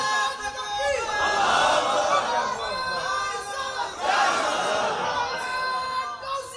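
A large crowd at a Bengali Islamic religious gathering roars a takbir in unison, two loud collective shouts a few seconds apart, with a reverberant amplified setting.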